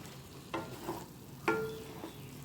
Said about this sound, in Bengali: মশলার সাথে বড়াগুলোকে ভালো করে মিশিয়ে নিতে হবে।